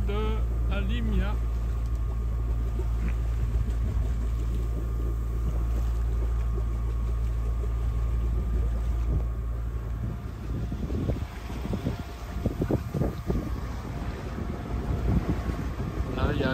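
A sailboat motors in light wind with its genoa set. A steady low engine drone runs throughout with wind rumble on the microphone, and water slaps and sloshes near the hull toward the end.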